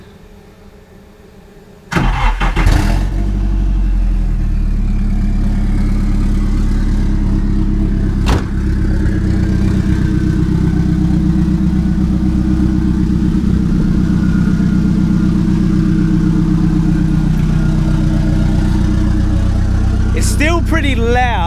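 SIL80 drift car with exhaust fitted cranks and fires at about two seconds, then settles into a loud, steady, rumbling idle close by, with a brief blip midway and no talking.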